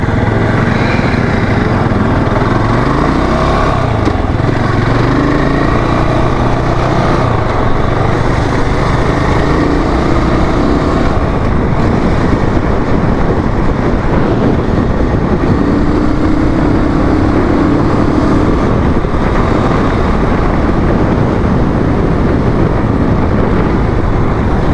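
A Jawa 650 motorcycle engine rumbles loud and steady throughout a test ride, with a dense continuous roar, rising and falling gear and throttle swells, and strong wind noise.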